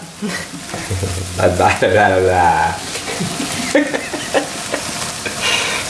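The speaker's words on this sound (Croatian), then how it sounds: "Paprika koja se prži zajedno sa mesom i lukom" Peppers frying together with meat and onion in a pan for chicken tortillas, a steady close sizzle under intermittent speech and a few stirring scrapes.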